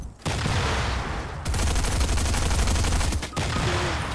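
Gunfire in Fortnite comes as bursts of rapid, loud automatic shots in quick succession, with a short pause between volleys and no one speaking.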